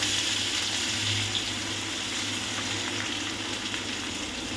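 Chopped onions dropped into hot oil already fried with cinnamon, cloves and cardamom, giving a steady, loud, close hiss of sizzling that continues unbroken throughout.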